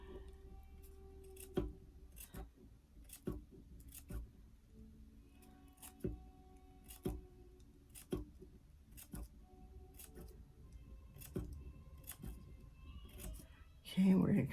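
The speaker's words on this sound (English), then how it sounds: "So I'm going to do just a little 1/2 inch cut here. I'm going to make my bigger cuts." Scissors snipping fringe into crepe paper, a steady series of about a dozen crisp, close cuts at regular intervals, ending in a louder rustle of paper.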